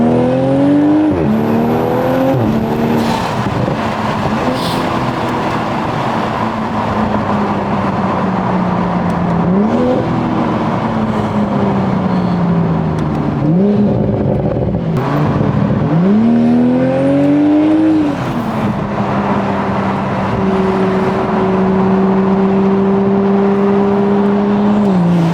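A 500 hp Toyota Supra engine revs repeatedly, pitch climbing and falling through several loud, sustained pulls, close and continuous with no talking.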